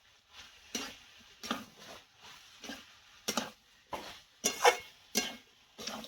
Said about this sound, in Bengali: সর্ষে বাটা দিয়ে আমি 1 মিনিট একটু নেড়ে ছেড়ে নেব